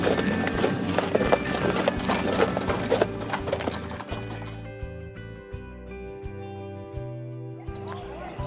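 Horses walking out on a scenic ranch trail ride, their hooves clip-clopping in an uneven rhythm under a busy background of music or ambient noise that thins out partway through.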